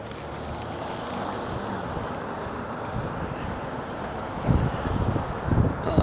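Outdoor wind on a city street in Alhambra, Los Angeles, buffets the microphone as a steady, low rumbling roar, swelling into stronger gusts toward the end.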